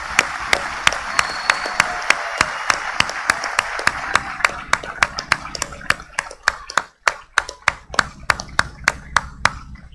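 Applause at a municipal council session opening, a crowd clapping steadily and loudly, then thinning to fewer, slower individual claps toward the end.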